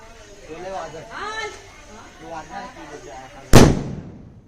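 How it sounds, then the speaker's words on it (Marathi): A single loud firecracker bang bursts at a Ganpati immersion procession, arriving after a stretch of nearby talking, with a sharp crack that decays quickly. "फटाक्याची आतिषबाजी चालू आहे तिथे"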